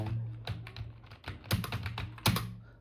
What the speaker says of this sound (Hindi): इसके बाद अगर टाइपिंग कर रहे हैं, जैसे यहाँ से हम कुछ भी कर रहे हैं